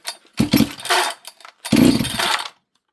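A rebuilt chainsaw, fitted with a new top end and piston, catches twice in short rough bursts, revving loud and close. It cuts out after about two seconds each time, and the second burst ends abruptly in silence.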